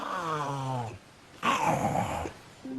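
A voice imitates the snoring, rasping noise of a giant snake swallowing its prey, heard as two gurgling, growl-like bursts with a short pause between them, close and fairly loud.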